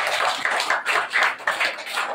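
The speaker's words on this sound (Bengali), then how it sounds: "ক্ষুদিরাম বসুর জন্য হাততালি একটা" Applause for a team at a primary school quiz, a short burst of dense clapping from a group lasting about two seconds, with no talk.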